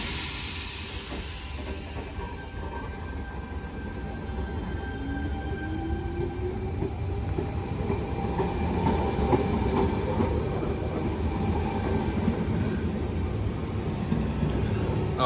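A Sydney Trains Tangara electric train departs a station, its motors whining upward in pitch over a steady hiss and rolling rail noise that grows gradually louder as it pulls away.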